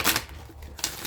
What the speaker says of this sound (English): So I'm going to just get a few more shuffles on this.